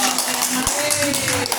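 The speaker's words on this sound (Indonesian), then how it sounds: "Beri tepuk tangan yang meriah" A steady, dense hiss of applause from a school gathering fills the whole short stretch, with a voice speaking over it.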